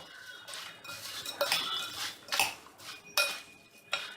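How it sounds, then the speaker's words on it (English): A spoon mixes street-food chaat with sev in a bowl, giving several distinct clinks and scrapes against the dish at an uneven pace, close and fairly quiet, with no voices. "And now we'll take a spoon and mix up all of this."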